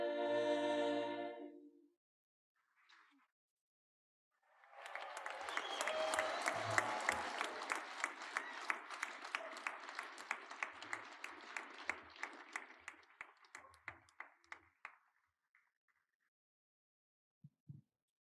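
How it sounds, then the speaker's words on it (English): Audience applause at a mayor and city council inauguration, a crowd breaking into steady clapping after a sung anthem fades, building then thinning out to a few last isolated claps. "Let's give another round of applause to the Chaparral High School."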